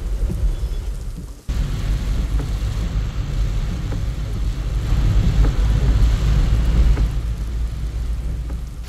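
Heavy rain pours at a morning palanquin departure in Alandi, a loud, dense, continuous wash with deep low rumble throughout, briefly cut off near the start, with no voices.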